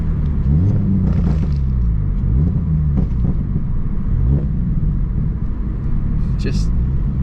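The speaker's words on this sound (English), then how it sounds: "You just slightly tap the throttle. It's just so loud." A daily-driver car with a catback exhaust is revved with light throttle taps: a loud, deep idle rumble swells into several quick rising revs that fall back. A person talks over the engine.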